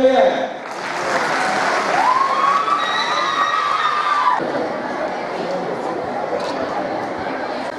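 An audience at a sanitation and cleanliness program gives sustained, loud applause mixed with scattered cheers and crowd chatter, then the clapping fades away.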